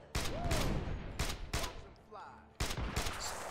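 Sniper shots crack in the State of Decay zombie game, four loud, sharp reports spaced about a second apart, each with a brief echoing tail over game ambience.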